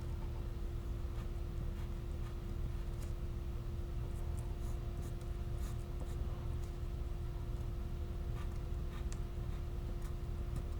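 A pencil traces creases on paper for an origami scorpion, making faint, intermittent scratchy strokes over a steady low hum.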